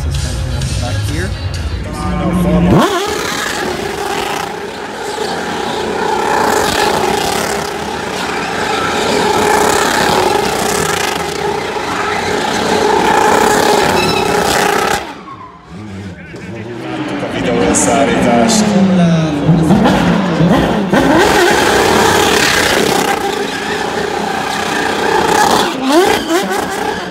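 Formula Renault 3.5-liter race car engines roar at a Budapest motorsport event, high-revving whines rising and falling as cars pass loudly, with a brief dip before another car sweeps by.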